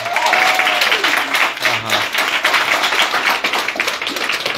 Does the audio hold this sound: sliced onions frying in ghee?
no